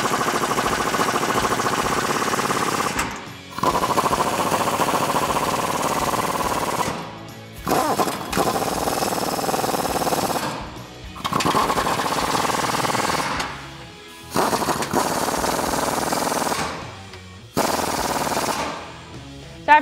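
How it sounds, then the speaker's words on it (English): Control arm bolts on a Jeep Wrangler JK being run down with a 21mm socket on an impact-style tool, loud rapid rattling bursts of several seconds each separated by short pauses, close up with no talking. "So now with our 21mm wrench and 21mm socket, we can tighten down our control arm bolts."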